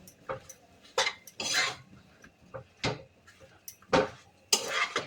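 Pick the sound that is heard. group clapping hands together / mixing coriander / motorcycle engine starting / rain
mixing coriander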